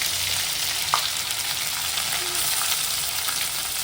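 Coconut and an onion-garlic-ginger paste hit hot oil with curry leaves for a Maharashtrian mutton curry, giving a steady bright sizzle with a brief stir clink, no voices.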